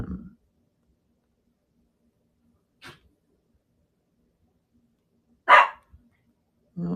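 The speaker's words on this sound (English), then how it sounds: "My dog like hears me in here." A dog barks a few separate times from another room, short sharp yelps spread across an otherwise quiet stretch with long silent gaps between them.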